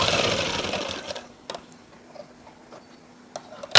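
A sewing machine stitches a blouse sleeve in brief bursts, a loud whirring run at the start fading into quiet, followed by a few sharp isolated ticks and clicks.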